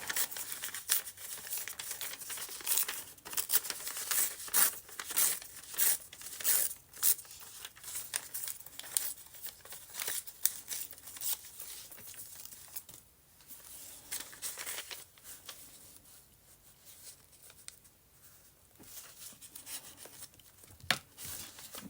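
Old, slightly pinkish book paper is torn and crumpled for a journal page. Dry crinkling, rubbing and ripping carry on steadily at close range with no talk, coming in short rustling bursts with a few sharper tears.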